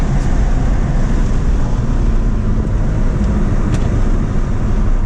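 A Mini Cooper JCW F56 with a Dinan Elite Stage 1 tune accelerates hard in third gear, giving a loud, constant low engine roar mixed with road and wind rumble inside the car.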